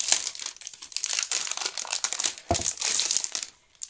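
Cardboard packaging holding Sizzix dies is opened up close, giving bursts of crinkling, crumpling and tearing with short pauses between them, loud and clear with nobody speaking.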